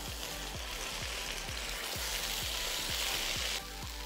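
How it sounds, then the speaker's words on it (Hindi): Boiled chickpeas stirred with masala in a hot pan, a steady close sizzle with regular scraping strokes about twice a second, dropping slightly quieter near the end, no voices. "हमने अपने सारे छोले डाल लिए, अब हम इसको मसाले के साथ मिक्स करेंगे।"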